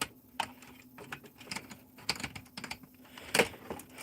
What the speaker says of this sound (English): Alright, I'm gonna put the regular fan back in.